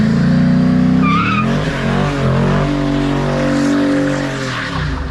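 A car drifting with loud, sustained tire squeal and a roaring engine close by, the screech wavering continuously throughout.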